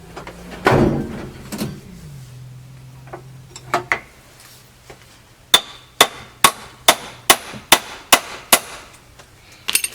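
Metal smacks ring out against a stuck bolt on a Suzuki TC 185 dirt bike, a few scattered blows at first, then a fast run of about eight sharp, evenly spaced strikes close by.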